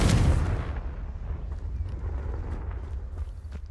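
The Confringo fire-blast spell from the game Hogwarts Legacy erupts in a loud booming burst at the start, then rumbles and crackles away into a lingering low tail with scattered small pops.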